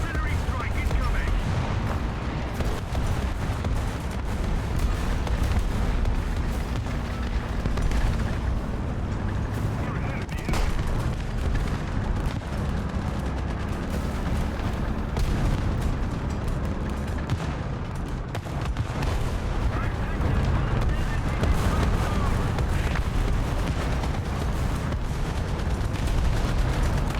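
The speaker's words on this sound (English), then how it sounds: "Artillery strike incoming." Artillery strike explosions in War Thunder during a battle with a Churchill AVRE Petard, a dense, continuous roar of booms and blasts filling the whole stretch, with a voice speaking now and then under the din.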